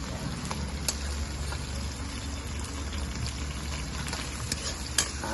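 Tomatoes cook in a pan for tocino bangus, a steady close sizzle and bubbling hiss throughout with a few faint clinks.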